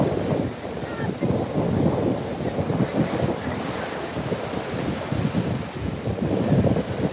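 Ocean waves and gusty wind at a beach where people are swimming, with a steady rushing surf roar and buffeting wind on the microphone throughout, close and fairly loud.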